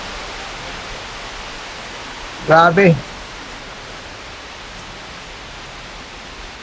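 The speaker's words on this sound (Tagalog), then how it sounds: "Ayan ngayon, lumakas na talaga ang ulan" Steady, dense hiss of heavy rain pouring down in Mindanao with strong wind, with a brief exclaiming voice cutting in midway.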